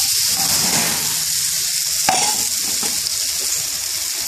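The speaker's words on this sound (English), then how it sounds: "Now I stir some chopped onion, pinch of salt, a little mixed curry powder," Chopped onion sizzling in a pan with a pinch of salt and mixed curry powder for a British Indian restaurant-style spinach rice, a loud continuous fry with stirring scrapes and one sharp clack midway.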